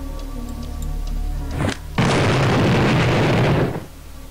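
Proximity dynamite detonating in a game, one loud close blast with a sharp onset and a broad roaring rumble lasting about two seconds before cutting off, after a brief click.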